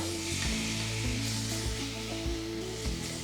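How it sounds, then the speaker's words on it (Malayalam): Two medium tomatoes tossed into a hot pan of cooked-down masala for a chicken mappas, sizzling steadily and fairly loudly up close, with faint stirring scrapes and a low hum underneath. "2 മീഡിയം സൈസ് ടൊമാറ്റോ എടുത്തേക്കുന്നത്, അതിടുക."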